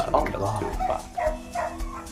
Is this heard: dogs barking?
yes